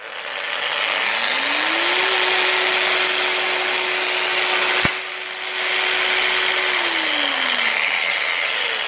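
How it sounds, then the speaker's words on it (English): A power drill spins up with a rising whine, holds a steady high-pitched hum for several seconds, then winds down, loud and close. "This is in drilling mode, and here you have the impact."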